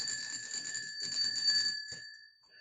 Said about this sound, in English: I'll just ring the bell.